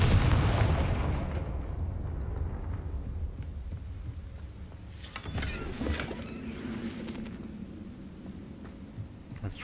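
A Confringo spell explosion in the video game Hogwarts Legacy, beginning as a loud, booming burst that rumbles and fades, followed by a few sharper crackling blasts midway.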